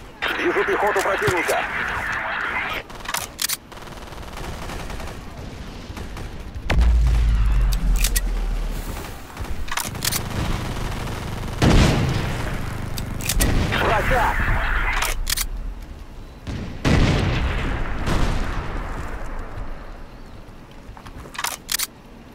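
Grenade explosions in the video game Battlefield 2142 land as several heavy booms among scattered gunfire, with voices talking over the battle.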